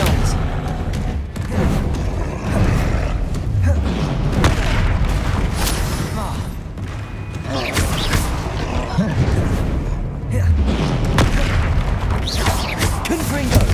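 Repeated Confringo blasting spells from Hogwarts Legacy burst one after another in a busy fight, with heavy booms and crashes layered over a steady rumble. Voices shout throughout the combat.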